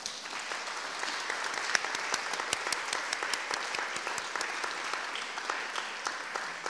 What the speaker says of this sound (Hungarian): Úgyhogy most kérek egy nagyon nagy tapsot mindenkinek, aki itt van.